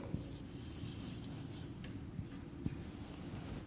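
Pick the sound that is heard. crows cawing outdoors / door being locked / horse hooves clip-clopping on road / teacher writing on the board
teacher writing on the board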